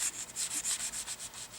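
Rhythmic rubbing strokes of a cloth soaked in lighter fluid scrubbing a 1964 Vox Lynx guitar neck, about nine or ten back-and-forth passes in a steady, close, hissy scrubbing pattern.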